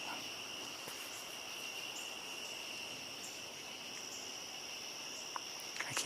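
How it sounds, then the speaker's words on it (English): Crickets and other insects chirp in a steady, faint, continuous outdoor chorus of high, ringing trills, with no one speaking. "I can't remember what those insects that are making the noise are."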